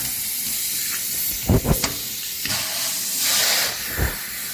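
Water rinses washed hair as a steady, close hissing spray, with a few brief splashy bursts and shifts in flow, no talking.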